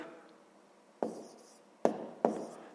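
Pen on paper while a decimal subtraction problem is written out by hand, a faint scratchy stroke with three sharper taps or strokes landing at roughly even intervals, close and quiet with no talk.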